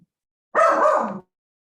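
A single dog gives one short, loud bark lasting about half a second, alone and close against silence.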